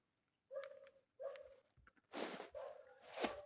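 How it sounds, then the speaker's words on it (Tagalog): Pet dogs at a hillside home, giving several short, fairly faint whines and barks in quick succession with a brief scuffle between them, no talking. "may mga alaga na aso doon si Bunso"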